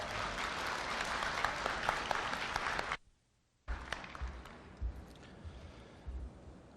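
A large graduation audience at a Korea University degree ceremony claps loudly to welcome the university president, a dense burst that cuts out briefly, then resumes more sparsely with scattered claps.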